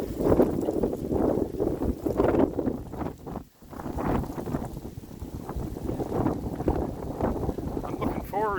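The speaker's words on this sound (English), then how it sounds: "deeper into the winter here when the wind's blowing like this" Strong winter wind buffets the microphone outdoors in cold weather, a loud continuous rumble with gusts that nearly covers a person talking throughout.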